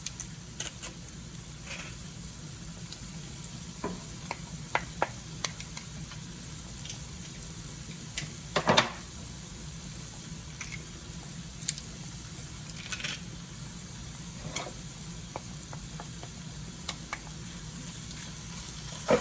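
Two cloves of garlic frying in a hot pan for haluski, a faint, steady sizzle with scattered soft clicks and taps of stirring, no voices.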